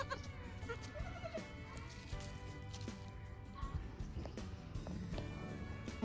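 Goats bleating on a farm, several faint cries amid a busy background of rustling and patter, no clear voices.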